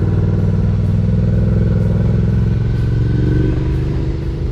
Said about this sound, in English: So one click down, a little bit of gas, let the clutch out, and then right turn into here.